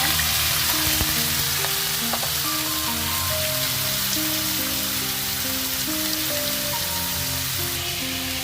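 Strips of bottle gourd peel and sliced onion sizzle and crackle steadily in hot oil, a close, continuous frying hiss with occasional stirring clinks.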